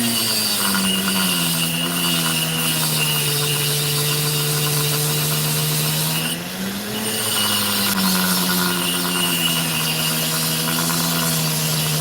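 A Dremel rotary tool fitted with a cheap diamond bit grinds opal stone, a loud, steady high-pitched motor whine whose pitch dips briefly midway, then resumes, with no talking.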